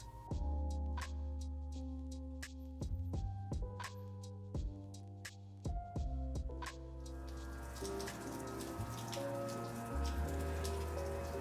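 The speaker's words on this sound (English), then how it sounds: "I awake to the sounds of melting snow" Water drips steadily from melting snow, individual drops landing close by at an irregular pace over a low, constant background hum.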